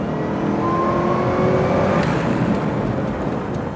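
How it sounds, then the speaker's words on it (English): A Ford GT supercar engine accelerates in a steady, loud roar with rising tonal whine, sustained and close throughout without talk. "The kind of noise that engine makes behind you,"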